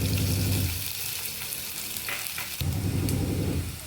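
Curry leaves and small shallots hit hot coconut oil in a loud, dense crackling sizzle that fades for a moment and then flares up again as the pan is stirred, with no voices.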